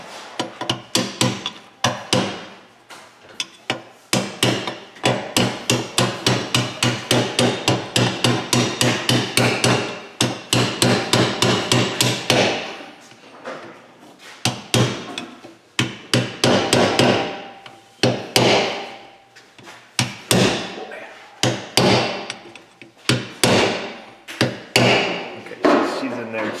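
Hammer strikes driving a bearing race into a Chevrolet front differential housing in a workshop, with long runs of rapid metallic blows, brief pauses, then slower spaced hits, loud and close.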